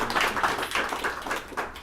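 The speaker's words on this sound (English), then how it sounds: "Let's do one more round of applause for her" A conference audience applauds a speaker, giving a steady, dense patter of many hands clapping at moderate distance with no break.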